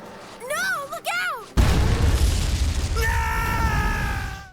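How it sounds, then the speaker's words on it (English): A massive explosion erupts as a mare strapped with explosives is detonated, a sudden heavy boom cutting off an animated voice and rolling into a long roaring rumble, with a sustained musical tone rising beneath it. "The explosion throws our hero off the cliff."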